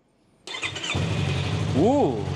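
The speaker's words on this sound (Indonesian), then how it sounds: "Ya khas R25 secara umum sih kalau ngelihat dan ngedengar suara starternya" Yamaha R25 motorcycle engine cranking on the starter and catching, settling into a steady mid-pitched idle with a brief rising rev, close and fairly loud.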